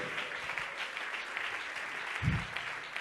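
Church congregation clapping in sustained, even applause, moderately distant, with a brief low thump near the end.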